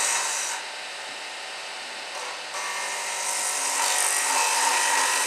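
Wood spins on a woodturning lathe as a tool takes a continuous cut, making a steady, close, hissing and rasping scrape that shifts slightly in intensity as the cut changes.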